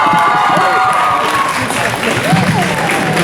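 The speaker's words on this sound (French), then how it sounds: "je vais vous demander de faire un tonnerre d'applaudissements pour Psycho Shop avec son Master Chief." An audience at a cosplay contest at a winter geek festival gives a burst of applause and cheering, loud and close, with scattered shouts over the clapping.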